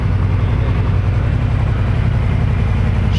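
A 2009 Suzuki C50 Boulevard motorcycle engine idling steadily and loudly up close, a low, even throbbing rumble with no revving, alone without talk.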